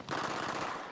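Rapid gunfire in the Battlefield 3 campaign, a dense, steady rattle of shots through a short stretch, fairly quiet and without talk.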